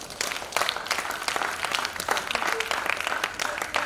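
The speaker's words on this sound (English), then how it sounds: "can we clap for our teachers?" Audience at a summit applauding for teachers, a dense burst of clapping from many hands that continues steadily for a few seconds, fairly close and loud.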